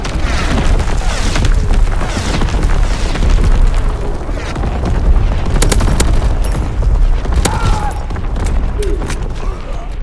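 An artillery battery firing in Call of Duty: WWII, heavy booms and rolling gunfire layered into a loud, dense battle din that runs unbroken throughout.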